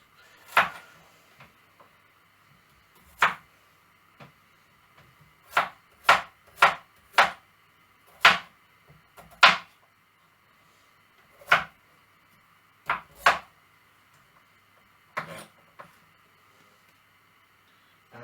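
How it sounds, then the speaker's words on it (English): Celery and carrots cut into small chunks on a board, sharp knife chops arriving singly and in quick runs of two or three with quiet gaps between, close and crisp. "Celery, carrots also need to be cut into small chunks"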